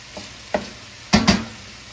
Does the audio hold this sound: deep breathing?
no